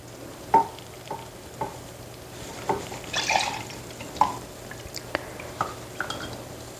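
A container of oil lifted out of a hot water bath while making arnica hand balm, giving scattered drips and small splashes in an irregular sequence of soft taps over a faint background hum, with no speech.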